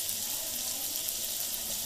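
Water runs steadily from rice being strained for a chicken biryani, a continuous close hiss of draining water with no talk over it.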